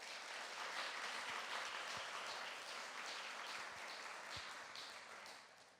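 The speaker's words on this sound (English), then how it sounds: "Please give them a round of applause." Audience applause at the Be More Awards volunteer ceremony in Bloomington, a steady dense wash of many hands clapping that holds for about five seconds and then begins to thin out.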